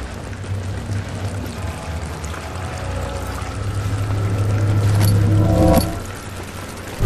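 Shower water pours steadily in the horror video game Amnesia: The Dark Descent, a broad rushing spray that swells louder toward the end before a brief splashy burst and a settling stream.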